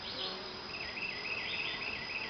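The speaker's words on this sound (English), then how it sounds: "when you swat a bee, it remembers that, and that's the reason it keeps buzzing around you" Honey bees buzz continuously at moderate distance, a steady droning hum with wavering pitch and no voices.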